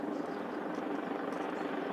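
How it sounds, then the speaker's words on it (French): Helicopters circle over a neighbourhood in Japan, a steady distant rotor rumble with a soft rhythmic chop, moderately faint and continuous with no talk. "Des hélicoptères tournent au-dessus du quartier."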